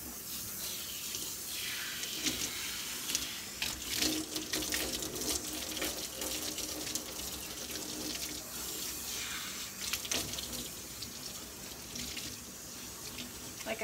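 Steady running water from a tap splashing over a dog during a home grooming rinse, a continuous close hiss and patter without pauses.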